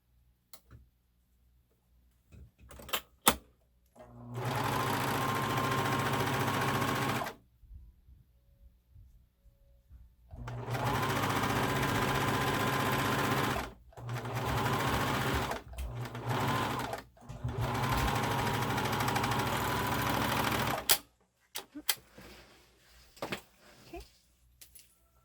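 Serger sewing machine stitching fabric pieces for a stuffed bear, running in several loud, steady whirring bursts of a few seconds each, separated by quiet pauses with small handling clicks.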